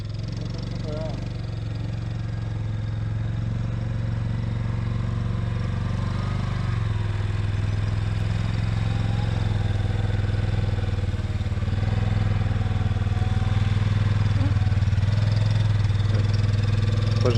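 A small ATV quad bike engine idles steadily with a low, constant rumble throughout, its pitch rising slightly now and then, with faint voices in the background.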